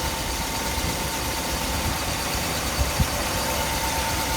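A 1959 Ford Fairlane 500 Galaxie Skyliner retractable hardtop with a Ford engine idling steadily up close, a smooth even drone with faint valve-train ticking and one or two small bumps near the end, no voices.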